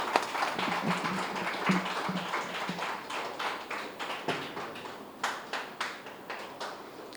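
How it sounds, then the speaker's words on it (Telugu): Audience at a Telugu public gathering clapping: scattered, uneven claps through the clip, with a low hum underneath and a few louder isolated claps toward the end, rather than a dense ovation. "ఒకసారి గట్టిగా క్లాప్ తెలియచ్చు."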